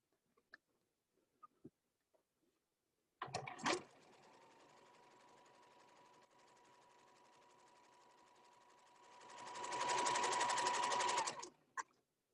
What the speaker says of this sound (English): You're going to do that zigzag stitch all the way.